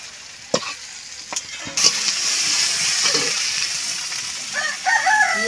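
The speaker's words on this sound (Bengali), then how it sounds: "কাঁকড়াগুলো ভেজে নিচ্ছি আগে তেলে" Crabs fry in hot oil in a home kitchen, a steady hiss of sizzling with occasional clatters from stirring; no one speaks, and a faint bird chirp or crow rises near the end.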